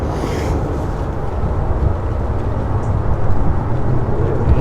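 A loud, broad jet roar from an Airbus A380 airliner at Manchester Airport, a steady low rumble filling the short clip without any talking.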